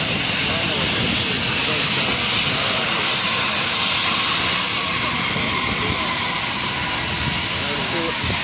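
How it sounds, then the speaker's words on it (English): Loud, steady aircraft engine roar fills the cabin during a presidential flight, a constant broadband drone with a faint high whine, while voices murmur underneath. "That's the ambience of the flight"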